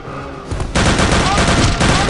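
Loud, dense gunfire in a video game: a burst of rapid shots swelling into continuous heavy automatic fire, close and harsh, with no voice over it.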